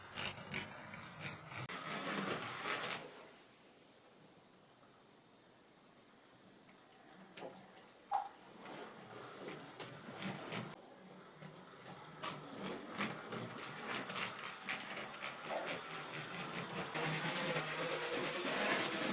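A model 0-4-0 locomotive runs around a track with a faint mechanical whirr that drops away when it stalls on a curve, then builds again as it starts moving.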